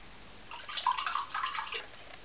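Tap water runs briefly over salad leaves being rinsed, a faint splashing gush in two short bursts against quiet background.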